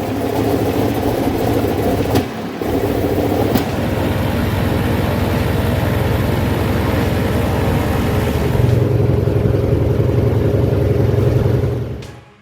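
Antonov An-2 biplane radial engine starting with the propeller turning, a loud continuous rumbling drone that holds steady with brief clanks early on, swells in the low range near the end and then cuts off abruptly.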